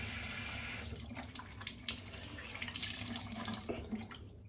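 Hot water gushes steadily from a tap close by, a constant splashing hiss into a sink.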